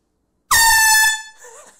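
One sharp, loud air horn blast sounds close up, holds steady for under a second and then cuts off, leaving a quieter ringing tail behind it.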